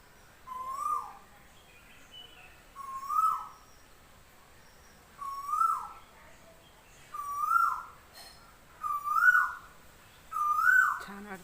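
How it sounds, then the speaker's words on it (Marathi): A bird calls six times in a slow, regular series, each a short rising-and-falling whistled note spaced a couple of seconds apart in a quiet setting. "असं शांत वातावरण आणि हे पक्षी ओरडते"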